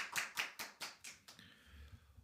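A church congregation at a Sunday worship service claps in praise, heard as about six distinct, evenly spaced claps that soften and fade out, quiet and somewhat distant.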